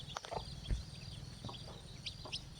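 Chickens cluck faintly and intermittently in the open at a farm, with soft scattered calls over a low background hum and a brief thump; no speech.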